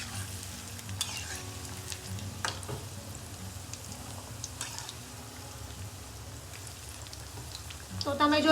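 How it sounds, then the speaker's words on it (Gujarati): Ponk vadas deep frying in hot oil for a Surat-style Gujarati snack, a steady dense sizzle with bubbling crackle throughout, occasional light clinks of a utensil, and a louder rush of sizzling near the end. "તો જે વડા છે એને આપણે ગોલ્ડન બ્રાઉન રંગના ફ્રાય કરીશું."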